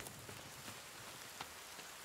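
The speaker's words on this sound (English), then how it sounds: "Now it starts raining." Steady rainfall in the survival video game The Forest, a soft, continuous hiss of drops on surfaces, faint and even throughout with no talking.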